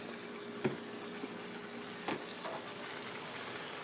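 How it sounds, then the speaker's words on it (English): Homemade gravy seasoned with seasoning salt, garlic salt and black pepper simmers in a pan with a steady bubbling hiss, broken by two light clinks or stirs, close and continuous with no talking. "Yeah, simmering up real nice."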